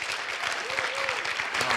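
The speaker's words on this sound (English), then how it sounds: "You will clap to congratulate them." A general assembly audience breaks into dense, continuous applause filling the room, steady and fairly loud throughout, with a faint voice briefly heard beneath it.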